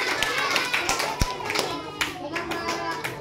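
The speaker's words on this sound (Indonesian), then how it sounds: "Tepuk tangan dulu dong." Applause from a school audience at an environmental outreach session, scattered claps over murmuring chatter and a lively room, with children's voices in the mix.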